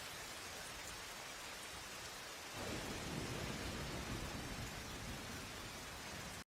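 Steady, dense rainfall hissing throughout, growing heavier and deeper partway through, with a low rumble like distant thunder.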